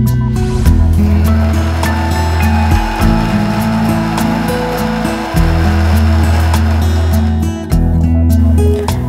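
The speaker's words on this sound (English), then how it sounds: "crush the tofu and add it into the blender" A kitchen blender whirs loudly blending tofu, its motor pitch dropping and surging several times as thick contents churn inside.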